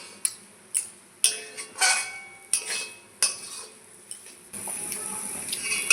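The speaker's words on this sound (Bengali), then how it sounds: "তেল দিয়েছি, এখন এইভাবে ভালো করে ভাজতে থাকবো।" Taro flowers and chickpeas frying in oil in a pan, with a utensil striking the pan in a string of sharp, irregular clinks, then a steady sizzle takes over near the end.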